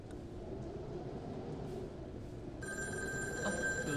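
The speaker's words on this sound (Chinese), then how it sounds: "有人打电话来了" A public payphone in the horror game Devotion starts ringing partway through with an electronic bell-like trill over a low rumbling ambient background, faint and alone.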